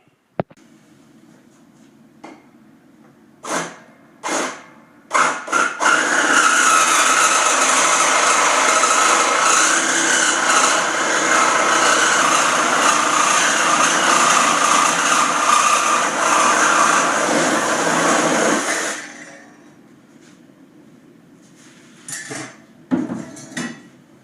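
A power tool cuts through a steel ATV snow plow frame in a loud, steady, harsh grinding run of about thirteen seconds, framed by scattered clanks and handling knocks before and after.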